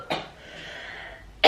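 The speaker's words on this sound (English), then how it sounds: "I just started coughing." A person coughs twice, one sharp burst at the start and another at the end, close and fairly loud, with quiet breathing noise between.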